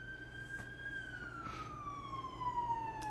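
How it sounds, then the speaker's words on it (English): An ambulance siren wails at a distance, its tone sliding steadily downward as it passes, over a low steady background hum. "Ambulance."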